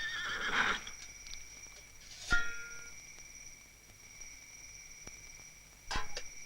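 A horse whinnies and neighs several times in short, loud bursts spread across a quiet night scene, with a sharp knock or hoof-like thud in between and no talking.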